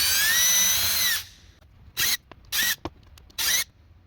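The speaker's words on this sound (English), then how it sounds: "While I'm at it, I'll just countersink this side." A drill countersinks screw holes in a car bumper, first whining in one long high run, then in several short bursts with pauses between, loud and close.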